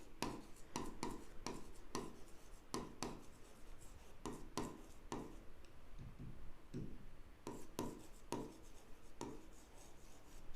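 A pen scratches across the pages of an accounts book in quick bursts of strokes, with short pauses between words. The sound is close and soft, and there is no talking.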